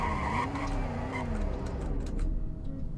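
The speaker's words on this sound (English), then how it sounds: "Here's a braking test." A car in the Roblox game Greenville brakes hard during a braking test, with a short tire skid squeal sliding down in pitch over engine noise before it settles, with no talk.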